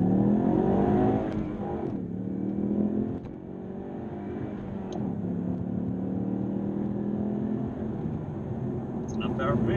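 A Ford Mustang EcoBoost Performance Pack engine accelerating as a quiet, steady drone with rising harmonic tones, heard loud and close from inside the car, easing briefly around the two- and three-second marks while muffled voices sit faintly underneath.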